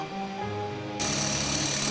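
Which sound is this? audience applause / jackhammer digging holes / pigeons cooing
jackhammer digging holes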